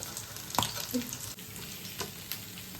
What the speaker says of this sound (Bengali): এখানে দেখো বেগুনটা ভাজা হচ্ছে